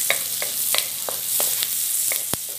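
Garlic and ginger sautéing with onion in a pan, a steady bright sizzle broken by scattered clicks and taps of a utensil stirring against the pan.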